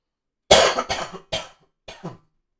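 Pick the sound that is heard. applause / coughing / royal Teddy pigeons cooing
coughing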